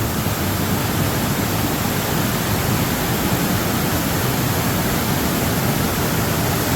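Rushing water crashes without pause at Devkund waterfall during a heavy downpour, a thick, even roar heard up close and loud, with no one talking over it.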